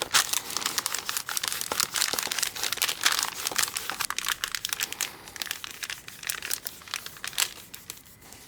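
Plastic book-covering film being smoothed and pressed onto a book, giving a steady close crinkling and crackling with quick rustles throughout, no talk.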